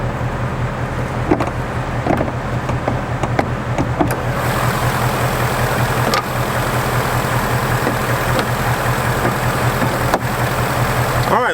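A 2018 Ford Mustang GT or Chevy Camaro SS V8 idles steadily up close with a deep, even low rumble, alone and without talk.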